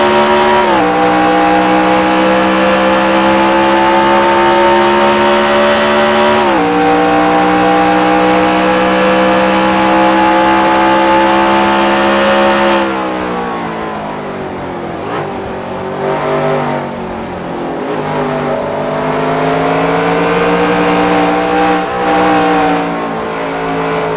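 Race car engines heard from an in-car camera in a sim racing game, a loud, sustained high-pitched engine whine rising through the gears with sharp shift drops, then easing off and revving back up.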